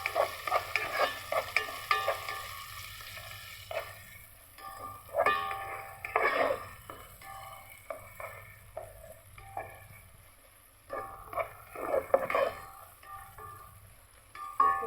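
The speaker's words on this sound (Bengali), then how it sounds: "প্রথমে আমি পেঁয়াজটা ভেজে নেব।" Sliced onions frying in a pan until brown for beef biryani, with recurring bursts of stirring clatter and scraping over a low, steady sizzle, close by and with no talking.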